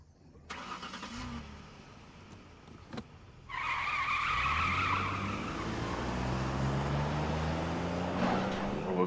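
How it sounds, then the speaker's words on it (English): A car engine in the video game RoboCop: Rogue City revs up hard after a few sharp knocks, its pitch rising and sustaining loudly. "RoboCop revving that engine up, man."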